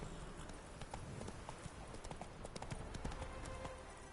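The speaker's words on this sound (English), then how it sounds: "Whoa there, Roach." Steady clip-clopping hooves of a horse in a PS4 video game, a quick even rhythm of hoof falls continuing throughout at moderate loudness with a faint background bed.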